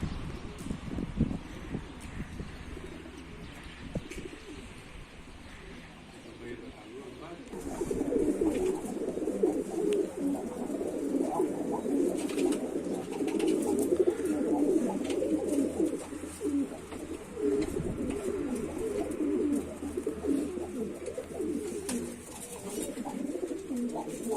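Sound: tumbler pigeons cooing inside a coop

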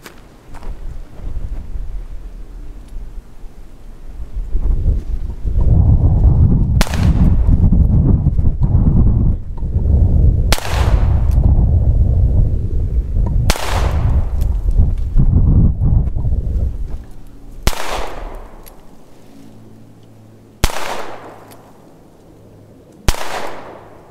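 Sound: Ruger Security Six .357 magnum revolver firing .38 special rounds

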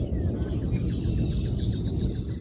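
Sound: birds singing at dawn

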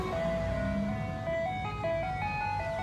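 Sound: ice cream truck

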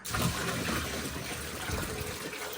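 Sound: bucket of water poured into boat pipe

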